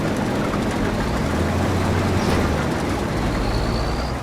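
A tractor engine runs in Farming Simulator 25, a loud, steady, broadband rumble that continues unbroken throughout, with no voices over it.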